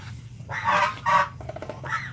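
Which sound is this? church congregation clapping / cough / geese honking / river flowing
geese honking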